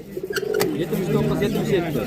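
Low, throaty pigeon cooing rolls on close by at the Andijan pigeon bazaar, with a brief tap early on and a voice faintly mixed in.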